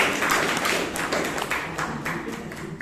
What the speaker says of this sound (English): Give a big round of applause for Toastmaster Shelma